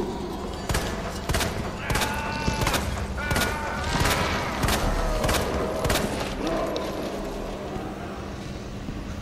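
Rapid gunfire from Resident Evil 2 Remake rings out in a loud, uneven string of sharp shots, roughly a dozen spread across the stretch, over a busy game soundscape.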